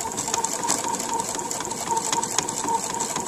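A sewing machine stitches a dress hem with a steady, close, continuous mechanical whir and a fine rapid needle patter throughout, with no talking.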